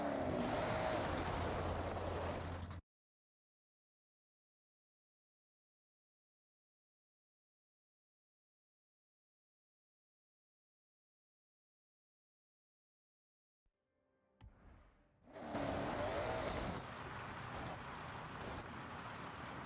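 Heavily tuned Ford F-450 pickup with a 1700-horsepower Power Stroke diesel in Forza Horizon 6, a loud engine roar for a few seconds that cuts to silence, then the roar returns, building and holding steady.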